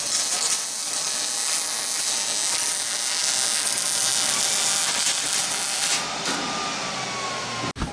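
Braces are welded onto the metal roof rack of an airport limo, with a continuous harsh, crackling buzz at close range that holds steady throughout and ends in a brief sharp knock.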